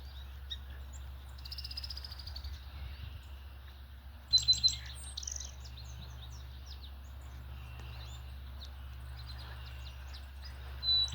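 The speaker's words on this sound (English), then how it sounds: "This birdhouse wasn't up for more than 5 minutes and the chickadees are already moving in." Chickadees chirp around a wooden acorn-shaped birdhouse outdoors, giving scattered short high calls and a brief louder burst, over a steady low background hum.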